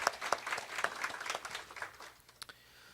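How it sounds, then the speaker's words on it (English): Short burst of audience applause for a school district's Teacher of the Year honoree, scattered claps fading out after about two seconds, with a room echo. "Give her a round of applause,"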